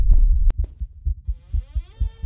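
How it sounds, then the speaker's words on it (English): Slow, steady heartbeat thumps in the horror game Romut, soft and low, following a sharp click, with a faint rising whine in the background and no voices. "Oh, it's making heartbeat noise."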